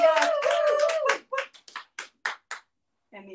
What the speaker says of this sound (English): Do we have applause from the studio audience?